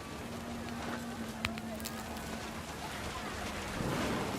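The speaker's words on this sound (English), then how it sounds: "The thunder sounded much too close and full of angry power." A thunderstorm in the video game What Remains of Edith Finch, over a makeshift family tent: a steady hiss of heavy rain with a faint low rumble near the end.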